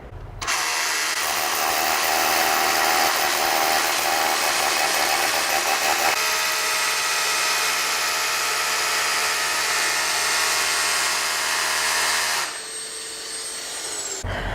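A Makita drill with a built-in dust vacuum boring a pilot hole, a loud steady high whine with a vacuum roar running continuously for about twelve seconds before winding down.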